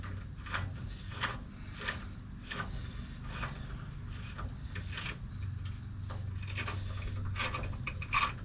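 Dirt is scrubbed off the rear brake parts of an F350 dually truck in quick, rasping strokes, an irregular run of brushing bursts over a low background rumble, close and fairly quiet.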